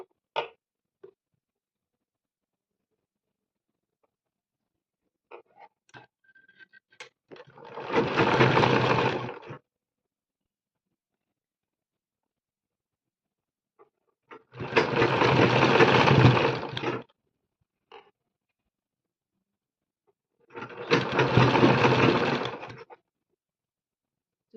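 Sewing machine stitching the side seam of a boat neck blouse, three separate loud bursts of steady whirring, each lasting about two seconds, divided by quiet gaps with faint handling clicks.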